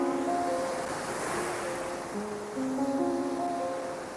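Ocean waves washing onto a beach in Da Nang, Vietnam, a steady surf wash with wind noise on the microphone and faint musical tones in the background.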